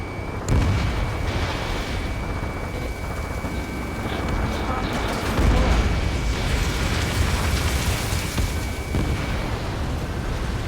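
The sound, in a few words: missile launch and explosions in the video game Ace Combat 7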